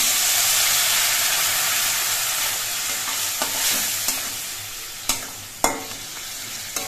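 Turmeric and cumin masala with a splash of water sizzles loudly in a pan, a dense hiss that gradually eases while sharp spatula scrapes and knocks punctuate the later part; no voices.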